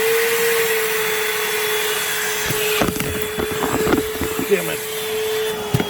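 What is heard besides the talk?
Milwaukee Fuel wet/dry shop vacuum running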